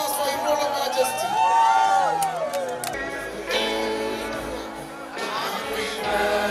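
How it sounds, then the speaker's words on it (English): A crowd at a royal birthday celebration for an eighty-year-old Oba cheers and claps, a loud sustained swell of voices and whoops with music underneath that rises and falls through the moment. "Can I hear an applause for His Royal Majesty?"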